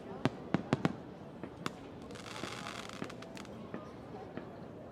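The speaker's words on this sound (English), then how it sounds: "Fireworks were lit one by one, illuminating the night sky brighter than the day." Fireworks in a night-sky scene of an audio drama pop and crackle faintly, with a rapid run of sharp bangs at first and then scattered lighter crackles.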